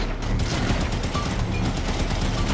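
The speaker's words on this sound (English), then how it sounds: "Looks like there's another captain back there with another splinter cannon. That's what I see firing." Rapid, continuous automatic fire from a Covenant splinter cannon in the Halo 5: Guardians campaign, a dense loud fusillade of shots filling the whole stretch with no talk over it.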